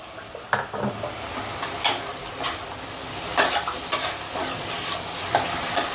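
Spices with turmeric are stir-fried in a pan for rohu mughlai, giving a soft steady sizzle broken by several sharp scrapes and knocks of a spoon against the pan.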